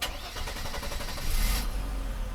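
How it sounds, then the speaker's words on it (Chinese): A Mercedes W126 300SEL is restarted after its fuel distributor repair: a brief whirring crank quickly catches into a firm, close engine note that settles toward idle. "引擎关掉， 我们来重新发动。"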